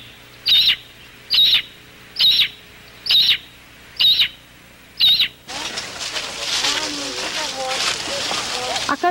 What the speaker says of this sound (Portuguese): Outra ave rara, o gavião pernilongo.